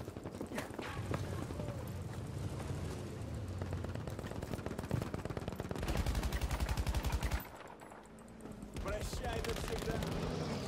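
Rapid bursts of automatic gunfire and scattered single shots in Battlefield V combat, loud and dense throughout with a short lull near the end, under faint voices.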